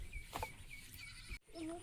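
A goat bleats briefly amid background noise and nearby voices, followed by a short higher wavering call near the end.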